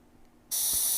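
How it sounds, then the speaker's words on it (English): After a short near-silence, an aerosol spray can abruptly starts a steady, loud, hissing burst of paint along the edge of a small bird painting of a cardinal, held next to a meat skewer. "I'm just going to really lightly start spraying just in front of the meat skewer, just along that edge"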